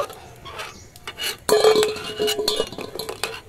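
Boiled country chicken eggs are lifted from a metal cooking pot, giving a sharp clank followed by scattered clinks and scraping knocks of a spoon against the pot in a quiet kitchen.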